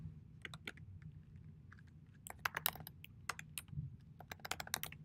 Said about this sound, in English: Just ignore the typing.